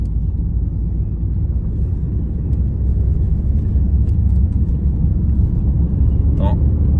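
A car engine and road noise drone steadily as the car accelerates toward 65 km/h, a constant low rumble with wind that swells slightly midway, heard alone without talk.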